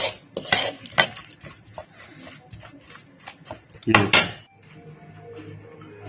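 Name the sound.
spoon mixing Russian salad with dressing in bowl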